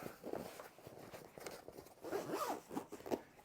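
A zipper drawn along a tight, packed sling bag in several short, scratchy pulls, close and fairly quiet, with some soft handling noise between pulls.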